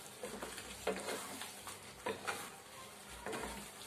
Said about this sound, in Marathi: आता आपण ह्यात हे लॉलीपॉप सोडूया आणि चांगलं जरा मिक्स करून घ्यायचं फक्त.